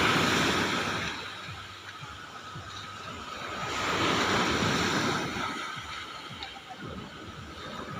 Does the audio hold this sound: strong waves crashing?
yes